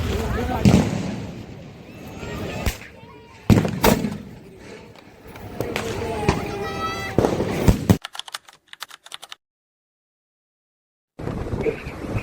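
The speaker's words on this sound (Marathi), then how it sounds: "सगळ्यात फेवरेट बॉम्ब आहे." Diwali firecracker bombs burst outdoors in loud sharp cracks, several bangs and crackling pops mixed with voices talking nearby, before the sound drops out briefly.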